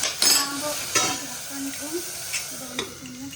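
Onion and tomato sauté in oil in a pan for keema, with sizzling and repeated scraping stirs about every half second to second, and clinking spoon touches throughout.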